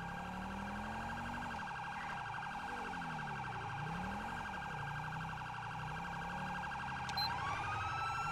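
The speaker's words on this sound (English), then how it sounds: "And there is the ambulance there, blaring the siren." An ambulance siren in GTA V; a steady wailing siren sweeps up and down continuously alongside a high pulsing electronic tone, sustained and fairly loud, with a rising whistle near the end and no talk.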